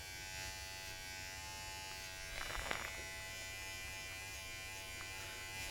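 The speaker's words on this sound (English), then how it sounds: "So now I'm going in with the 1 guard lever open, and I'm going to do the same thing going up about ½ an inch from the previous guideline" Electric hair clippers with a 1 guard, lever open, buzz steadily at low level through a self-haircut taper fade, with a brief louder rasp partway through as the blades cut hair.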